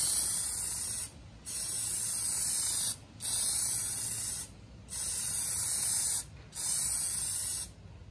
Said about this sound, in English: Spraying from above